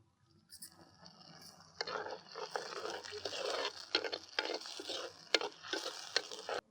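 Tomato paste is added to lightly fried onions and green chillies in a pan and stirred, making close, moderate stirring and scraping over a quiet sizzle, building after a soft start.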